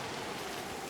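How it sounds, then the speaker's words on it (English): Rain hisses down steadily in the game Gord, a faint, even wash of noise with no breaks and no voices. "Boy, that rain."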